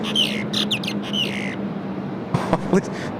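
A bird at an airport gives several loud, harsh squawks in a quick burst, followed by a pause, then a few sharper calls. A low steady hum sits underneath.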